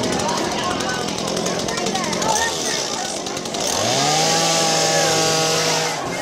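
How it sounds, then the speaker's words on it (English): A real chainsaw running without its chain at a Halloween 'Thriller' stage production: the engine revs up loud with a rising whine and holds at a high drone, with people talking around it. "It's a real chainsaw without the chain."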